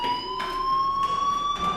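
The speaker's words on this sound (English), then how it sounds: "do you hear that fire alarm? That means you should be outside." A fire alarm in the Life Is Strange video game rings as a steady, piercing electronic tone that holds continuously at moderate loudness, with faint background noise and no voices.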